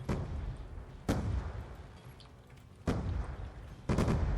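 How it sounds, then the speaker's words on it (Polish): Four sharp explosive blasts from exploding crossbow bolts at irregular intervals, each a sudden broadband bang with a short tail, over a steady rumbling soundscape in Call of Duty: Black Ops 2, Gun Master mode. "Jak tylko bełty wybuchają."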